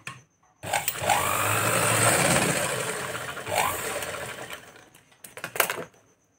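A sewing machine stitches tucks on a blouse, running in a close, rapid mechanical chatter for several seconds, then ending in a few short bursts and clicks.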